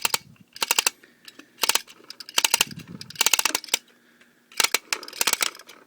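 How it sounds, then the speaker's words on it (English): A Kamen Rider Fourze Foodroid Potechokin toy is wound up, giving close, crisp ratcheting clicks in quick bursts separated by brief pauses, with no talking over it. "you wind this up here, and it'll kind of make a clicking noise."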